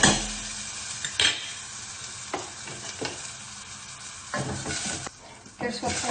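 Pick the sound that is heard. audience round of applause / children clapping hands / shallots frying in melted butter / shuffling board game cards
shallots frying in melted butter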